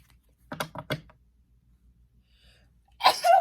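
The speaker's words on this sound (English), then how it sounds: "That is the first time I've sneezed in a reading." A short burst of soft tapping is followed by a pause, then a single loud, close sneeze.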